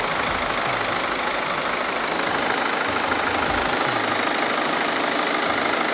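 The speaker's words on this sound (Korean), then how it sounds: "엔진 소리 일정하고 좋습니다" A BMW 5 Series F10 520d diesel engine idles steadily nearby, a constant rough rumble with faint knocking and no voices.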